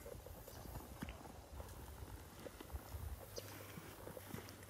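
A 6-coming-7-year-old horse being walked over, its hooves clip-clopping in a faint, uneven patter against a steady low background rumble, with no talk.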